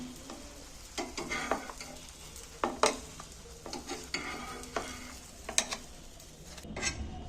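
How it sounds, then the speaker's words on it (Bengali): Egg and onion fritters fry in a little oil with a soft continuous sizzle, broken by repeated scraping and tapping strokes of a spatula against the pan, close and fairly quiet, no talking. "এবার বাকিগুলো আর একবার আমি ভেজে নিচ্ছি এক চামচ তেল দিয়ে দিচ্ছি"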